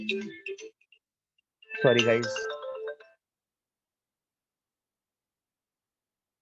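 A phone ringtone ringing indoors during a physics lesson, a short melodic burst loud and close, with someone briefly speaking just before it.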